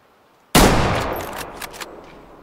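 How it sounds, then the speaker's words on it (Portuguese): A single .270 caliber hunting rifle shot fires in the hunting game Way of the Hunter, a sharp loud crack followed by a long, fading echo rolling out over the landscape, with no talking. "Foi um disparo meio baixo, eu acho."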